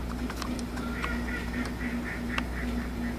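Ducks calling in a rapid, repeated series of nasal honks and quacks, close and fairly loud over a steady low background hum.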